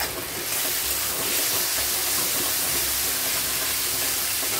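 Noodles being stirred with tomato sauce in a hot pan on a gas flame, giving a steady sizzling, hissing fry that runs evenly throughout with no one talking.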